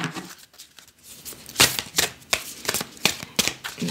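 Oracle cards riffled and shuffled by hand, a run of crisp, close flapping bursts in an irregular rhythm, heard alone with no talking.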